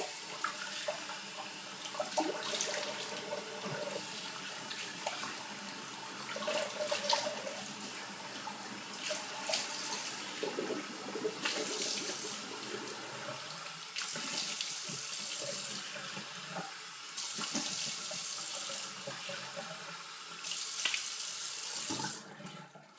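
Tap water running into a bathroom sink to rinse after a traditional wet shave, a steady hiss of flowing water lasting over twenty seconds, varying as hands move through the stream, with clatters near the end.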